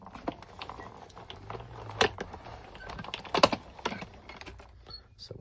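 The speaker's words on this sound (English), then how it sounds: "bringing the die machine in, I'm just going to cut them to start with" A die cutting machine presses wool shapes for a handmade knitting-themed card, giving a run of close, irregular clicks, knocks and crackles with a few sharper snaps, no voice.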